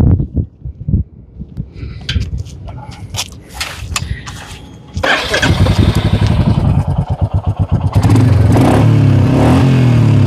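A motorcycle starts and revs up, its engine rising to a loud, rough, pulsing roar after a few clattering knocks and faint talk at the start.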